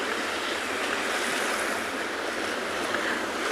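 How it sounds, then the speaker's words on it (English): Ocean waves wash steadily at sunset, a broad continuous surf hiss with gentle swells and no breaks, moderately loud and alone without voices. "I could sit and watch waves and listen to them for hours."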